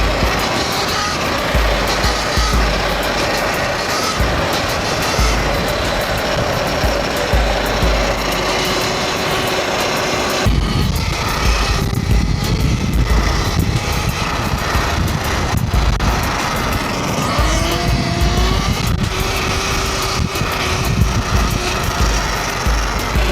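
A 2025 Sur-Ron Ultra Bee electric dirt bike is ridden hard in its highest power mode, with loud, continuous close motor whine, rushing wind and rough terrain noise throughout.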